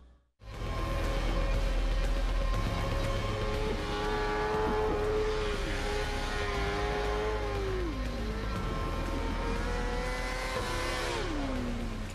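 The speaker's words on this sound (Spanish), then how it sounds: "¿Qué tal ese derrape?" A big motorcycle skidding under throttle, its engine droning loud and close, with rising and falling revs as the rear tire slides, running steadily for several seconds.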